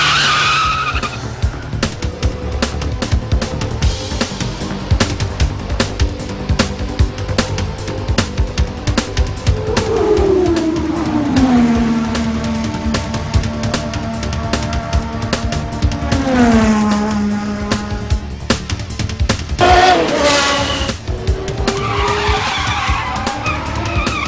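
A car accelerates hard, its tires squealing in long wavering screeches over a roaring engine. The sound is loud and close, and repeated skids rise and fall across the whole stretch, with no voices.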